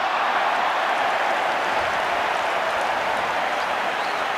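Rugby crowd at a New Zealand vs Wales match in 2003, cheering as a steady, loud, broadband roar that holds without a break throughout.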